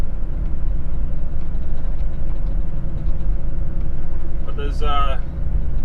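A truck labors up a steep climb on the old Hume Highway in first gear with the revs held high, a loud, steady low engine drone filling the cab, and someone briefly speaks near the end.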